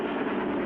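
A steady, dense rumbling roar of a train runs without a break through the whole moment, a continuous mid-range rush with no clear clatter, taken from the soundtrack of a vintage cartoon.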